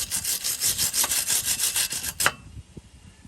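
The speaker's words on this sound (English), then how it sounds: "flux core wiring leaves like a coating of the flux on there, so you have to brush it off to get it out of the way" Brush scrubbing flux coating off a flux-core MIG weld on a keg-style motorized bike gas tank, a close, rapid back-and-forth rasping rhythm that stops after about two seconds, leaving faint scrapes.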